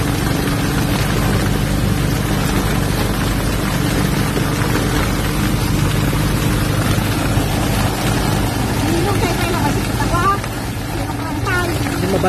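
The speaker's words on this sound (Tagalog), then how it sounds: "Nabutan tayo ng malakas na ulan sa daan." Heavy rain caught on the road while returning from a farm, a steady loud wash of rain noise mixed with a continuous low engine rumble from the vehicle, with no break throughout.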